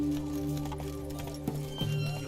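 Horse hooves and snorts from a mount in The Witcher 3 video game, a steady clip-clop under game music with a couple of brief sharper hits, moderately loud throughout.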